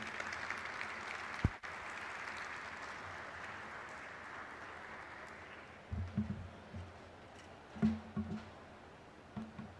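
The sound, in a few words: applause for a speaker taking the stage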